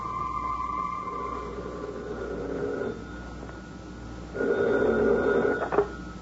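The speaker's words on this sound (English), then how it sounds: "a telephone rang in a suite at the Hotel Vendôme in Paris" An old-fashioned telephone rings in a Paris hotel suite in a radio drama, with two separate bursts of ringing, the second louder and more insistent, over a faint background hum.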